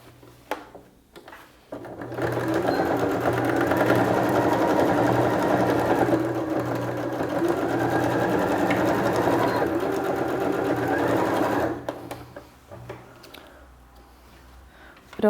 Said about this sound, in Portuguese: a gente já vai começar a fazer o acabamento passando uma costura em zigue-zague aqui